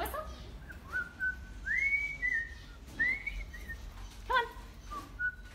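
A pet cockatiel named Arthur whistles in a series of bright, rising and sliding tonal notes, close and fairly loud, with short pauses between phrases over a soft room background.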